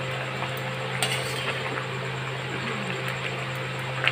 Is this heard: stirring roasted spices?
yes